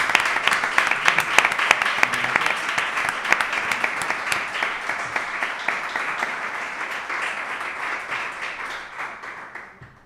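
A crowd at a public event on urban environments along the Guadalquivir in Gelves applauds steadily for about ten seconds, a dense wash of clapping that holds loud and even before tapering slightly toward the end.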